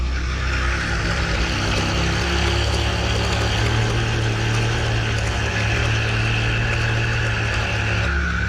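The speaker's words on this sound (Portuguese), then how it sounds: "barulho de como se fosse alguma engrenagem, um rolamento estourado." Triumph Tiger 1200 Explorer motorcycle engine running steadily with a clutch basket fault, a constant close mechanical drone with a grinding, gear-like rattle like a failing bearing, no voices.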